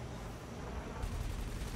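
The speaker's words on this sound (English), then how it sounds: "Joseph, incendiary on multi-cannons is very popular" Rapid automatic cannon fire in a PvP space combat video game, incendiary multi-cannons hammering out a dense, continuous rattle that swells louder midway through.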